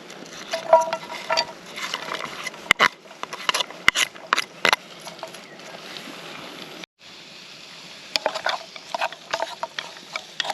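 Fennel sizzling gently in garlic-scented oil in a pan at a wild camp, a soft steady crackle with occasional stirring scrapes and clatters, close and fairly quiet, with no talking.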